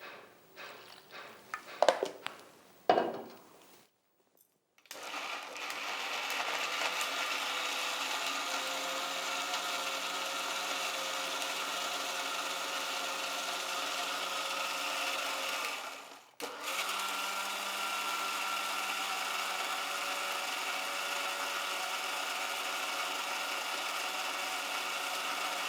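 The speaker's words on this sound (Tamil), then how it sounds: "இது எல்லாத்தையும் வந்து கொஞ்சம் தண்ணி சேர்த்து சட்னி மாதிரி அரைச்சிக்கணும்" A kitchen blender grinds spring onion chutney with a little water: a steady, loud motor whir running about twenty seconds, with one brief dip partway through and a few small knocks just before it starts.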